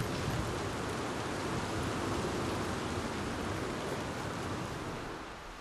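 Heavy rain pours in Red Dead Redemption 2, a dense unbroken hiss of falling water that stays loud and even before easing slightly at the end, with no voices.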